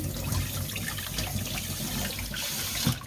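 Rockfish being rinsed under a running kitchen tap, a steady close rush of water splashing over the fish in the sink for a few seconds, no talk.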